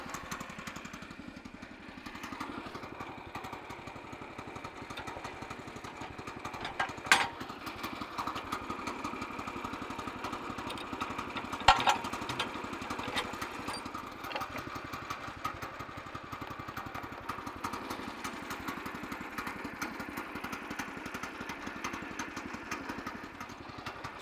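Woodland Mills HM122 portable sawmill running steadily as it cuts a log, a continuous mid-pitched engine drone with a few sharp knocks, close and loud throughout.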